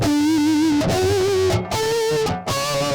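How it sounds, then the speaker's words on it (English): An electric guitar plays ringing harmonics through a distortion effect: four sustained, loud, buzzy notes, each held about a second before stepping to a new pitch, with no talk. "And then you can always turn on your distortion."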